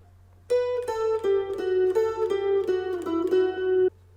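Picked electric guitar line from a song, a run of about ten clearly separated notes at a steady rhythm, played close and alone for several seconds.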